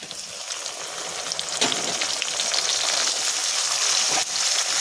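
Stone-ground spice paste sizzles and fries with onions in a pan, a steady loud crackle broken by a couple of sharper stirring scrapes. No one speaks.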